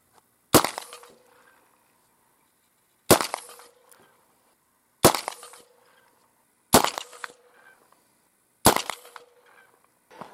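A gun firing copper matrix slugs at a target: five sharp, loud reports spaced roughly two seconds apart, each with a short decaying tail and near silence between.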